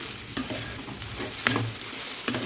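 Grated fresh coconut frying in a kadai over medium flame with a steady sizzle, while a spoon scrapes and stirs it in three distinct strokes.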